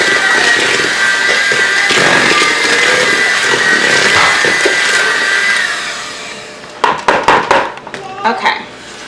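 An electric mixer whirs steadily through old-fashioned tea cake batter, loud and close, then cuts off and gives way to a few knocks and clatters of bowl or utensils.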